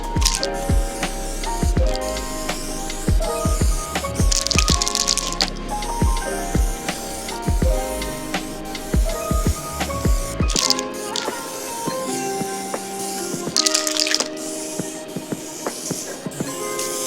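Repeated hissing bursts of a spray can painting a Subaru 2.5 RS roof in a garage in winter, short sharp sprays with rattly pauses between them, close and fairly loud.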